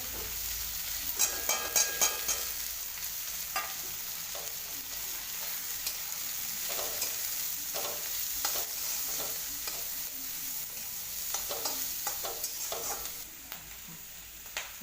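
Tomatoes and chili powder sizzle steadily in a hot pan for dal baati, with repeated scraping stir strokes and clinks breaking through the frying hiss at a close, moderate level.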